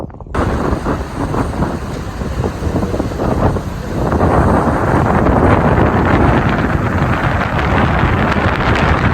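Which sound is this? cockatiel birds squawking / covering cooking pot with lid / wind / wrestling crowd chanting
wind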